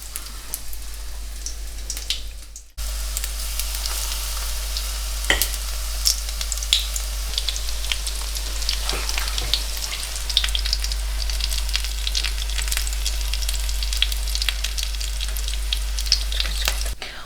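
Continuous crackling sizzle of batter-dipped sausage frying in hot oil in a pan, dense popping and spitting, briefly cut off near the start then resuming steadily.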